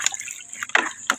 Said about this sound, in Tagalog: Kumugas sa aking itlog